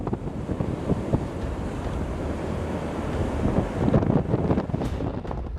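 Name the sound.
high sea waves and strong wind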